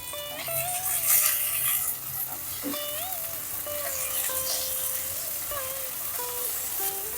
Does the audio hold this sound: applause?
no